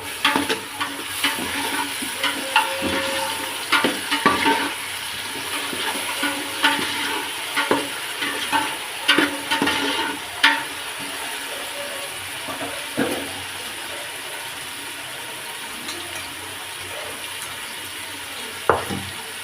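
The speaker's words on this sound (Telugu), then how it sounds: "ఇప్పుడు కొంచెం టమాటా వేసి కలుపుకుందాం" Tomatoes being stirred into a sizzling frying pan for coconut-milk biryani, with steady frying hiss and repeated scraping stir strokes, close and moderately loud, no talking.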